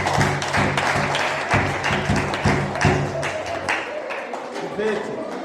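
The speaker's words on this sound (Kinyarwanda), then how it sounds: "Dukomere amashyi Imana yacu" At a wedding celebration, an audience claps and applauds in a dense, fairly loud patter of many hands, mixed with voices from the crowd, and the clapping thins out toward the end.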